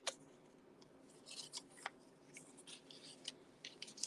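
Scissors snip through card paper while making a folded card, a quiet irregular series of short crisp cuts with small pauses between them.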